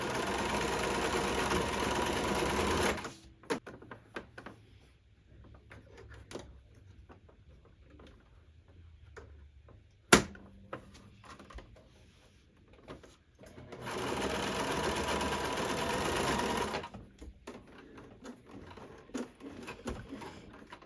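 A sewing machine stitches a double seam on a T-shirt poncho, with fast mechanical whirring in a couple of steady runs separated by quieter pauses holding small clicks and handling noise, close and fairly soft.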